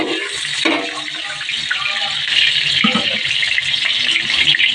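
Onion and garlic sautéing in a pan for chicken adobo, a steady close sizzle with occasional stirring clatter throughout.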